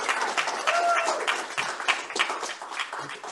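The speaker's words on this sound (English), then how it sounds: "if you could give him a round of applause for it" Clapping from a Sunday service congregation at the Center for Creative Living breaks out under a speaker's voice, a short, moderate patter of hands mixed with talk, fairly close.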